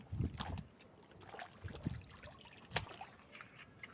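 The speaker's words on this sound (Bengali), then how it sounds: "ভীষণ ভালো করে ধুতে হয় দেখুন আমি ধুচ্ছি" Taro plants being washed by hand with water outdoors, with soft splashes, trickles and sloshing in irregular bursts, close and quiet.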